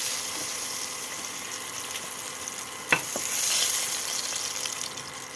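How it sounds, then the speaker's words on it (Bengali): Eggplant slices fry in hot oil in a pan, a steady close sizzle with one brief clatter of a utensil partway through. "আর যে বাকি বেগুনটা আমি এভাবে ভেজে নেব"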